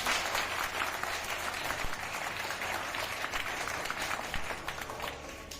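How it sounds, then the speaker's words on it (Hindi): Schoolchildren in an Indian classroom clap loudly together for a classmate named Sunny, a dense, steady burst of applause that carries on for several seconds with scattered voices mixed in. "सन्नी के लिए एक बार सब लोग जोरदार ताली"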